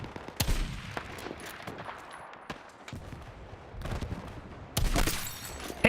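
A .50 cal machine gun fires in Battlefield, with several loud, sharp bursts in quick succession against a busy game soundscape. The heaviest volleys land near the start and toward the end.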